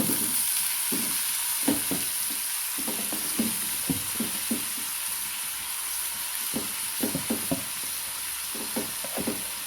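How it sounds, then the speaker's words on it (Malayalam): Spinach (cheera) stir-fried in a hot pan for a Kerala-style thoran, with a steady sizzling hiss and repeated knocks and scrapes of stirring throughout, no talk. "അപ്പം നമ്മൾ ചട്ടി ചൂടായിട്ടോ അതിലേക്ക് ഞാൻ ചീര ഇട്ടെടുക്കാം"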